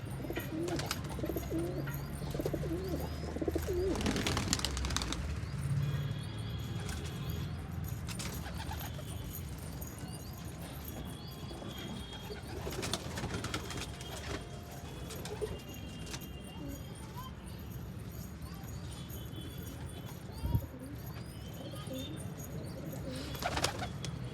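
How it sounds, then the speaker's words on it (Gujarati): Pet pigeons cooing nearby, soft repeated low coos over a quiet background with occasional clattering knocks and rustles, one sharp bump near the end. "હવે કેવા અસલ મસ્ત મજાના કબૂતર થઈ ગયા આપણી પાસે"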